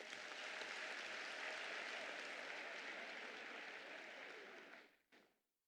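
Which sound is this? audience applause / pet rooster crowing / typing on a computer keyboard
audience applause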